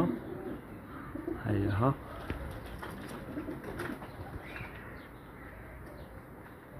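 Pigeons coo near and low in a loft flock, joined by a returning bird, with a short burst around the second mark and light rustling, while someone talks briefly over them.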